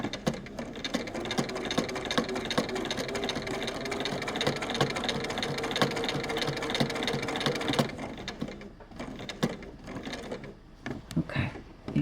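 A sewing machine stitching a quilt's binding runs steadily at a fast, even mechanical rhythm for about eight seconds, then stops, leaving a few clicks and handling sounds.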